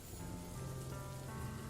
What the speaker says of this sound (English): Rain shatters on the solid tin roof as we both begin drying ourselves off.